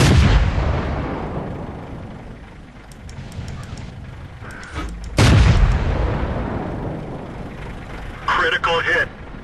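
Tank cannon shots in World of Tanks, a light tank battle: a heavy booming shot, then another loud blast about halfway through with a long rumbling decay, followed by clanking impact sounds near the end, with a player speaking over the action.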